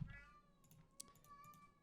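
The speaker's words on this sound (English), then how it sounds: "I have no idea why my cat's kind of going crazy right now" A pet cat meows close by, a couple of faint drawn-out calls over a quiet indoor background, with a small click partway through.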